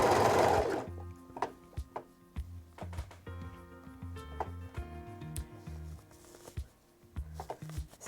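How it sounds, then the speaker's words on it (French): An overlocker serger sewing machine hums and whirs in short runs, with rhythmic mechanical ticking and clicks. Fairly quiet, opening with a brief loud burst. "le bruit de la surjeteuse nous réveille"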